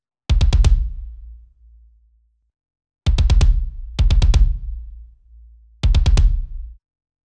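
Punchy processed kick drum from the Analog Hybrid Drums library hits in short groups, each with a sharp attack and a low boomy tail, separated by silence.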